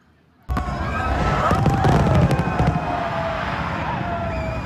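New Year's fireworks in Sydney burst suddenly after a moment of quiet, a dense crackling barrage with whistling streaks and booms, loud and continuous, with crowd noise underneath.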